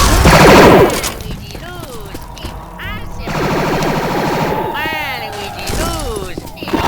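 Gunfire in the zombie shooter Left 4 Dead 2 on a modded Parish map, a loud burst of shots at the start, then scattered shots and clatter under overlapping in-game character voices calling out.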